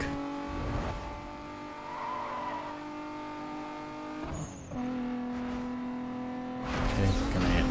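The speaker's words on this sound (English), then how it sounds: "Why did I have to press the handbrake?" In the video game Need for Speed: Most Wanted (2005), a car's engine drones as a handbrake skid makes the tires squeal, then the revs change and a louder rush builds near the end, with no talking.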